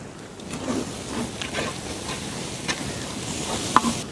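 Masala for a deer curry roasts in a very hot pan, giving a close, steady sizzle with scattered crackles and scraping stirs, and no talking over it.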